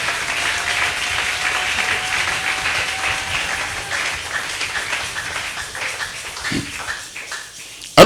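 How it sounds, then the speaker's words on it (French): An audience at a marriage conference closing session applauds steadily, a dense wash of clapping that holds for several seconds before thinning out and fading, with no talk over it. "Acclamez-le. Betela ye maboko."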